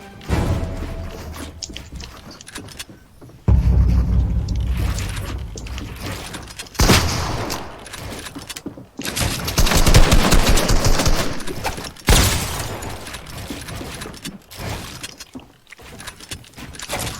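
Gunfire from a video game box fight comes in rapid bursts between short pauses, loud and close, with sharp automatic volleys and booming hits.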